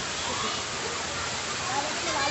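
Steady broadband rush of a waterfall at Barangay Binahaan, continuous and fairly close, with people talking faintly over the roar.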